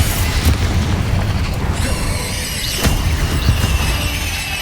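A Confringo fire spell blasting in Hogwarts Legacy, with loud, dense booms and crackling bursts rolling continuously through combat, and no voices over it.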